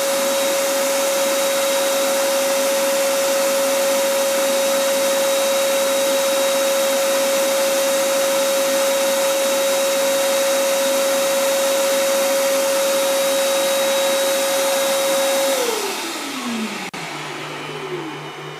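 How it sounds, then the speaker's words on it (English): Cooling fan of a Refuge 100 Pro portable solar power generator whirs loudly with a steady tone after a heavy load of about 1,100 watts, then audibly winds down in pitch to a lower hum near the end. "You can hear how the fan ramps down."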